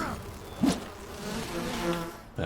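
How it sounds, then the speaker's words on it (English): Bees buzzing in the survival video game Enshrouded, a close droning hum with a louder swell early on that settles into a steady buzz before another rise at the end. "Got more bees."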